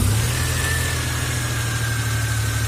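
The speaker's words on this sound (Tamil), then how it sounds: "வண்டி வந்து பிம்பில் ஸ்டார்ட் ஆகி ஓடிக்கிட்டு இருக்கு" A Maruti Omni car engine, just repaired after a starting problem, idles steadily and loudly up close with a constant low rumble and a faint whine above it, with no talk and no change in pace.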